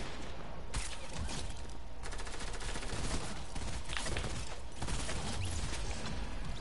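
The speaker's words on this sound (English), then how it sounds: "stop shooting people, chill." Video game gunfire on a PS4 session: rapid repeated bursts of shots in clusters, like automatic fire, fairly faint and continuous with no talk over it.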